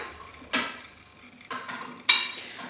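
Glass Christmas baubles are dropped one by one into a vase, three distinct clinking knocks about a second apart that ring briefly, with nobody talking.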